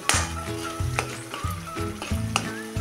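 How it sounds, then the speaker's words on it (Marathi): Tomatoes sauté in hot oil in a pan while being stirred, a close sizzle broken by several scraping stirring strokes. "हा टोमॅटो टाकून पण आपण चांगलं तेल सुटेपर्यंत आता एकसारखं हलवत राहायचं आहे।"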